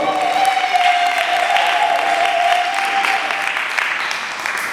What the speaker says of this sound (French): Acclamer très fort, acclamer très fort.